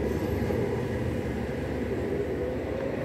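A Sydney Trains Oscar intercity train rumbles past steadily at a moderate distance between West Ryde and Eastwood, a continuous low roar with rail noise holding even for a few seconds.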